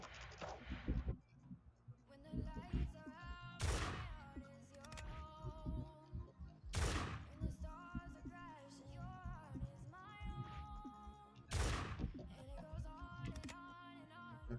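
Sharp gunshots in the game Grand Piece Online crack out four times, spaced a few seconds apart, over soft tonal background music.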